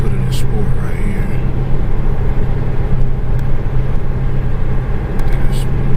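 Dodge Challenger ScatPack engine in sport mode during a manual downshift, a steady loud low rumble from inside the car, with faint clicks and murmured talk over it.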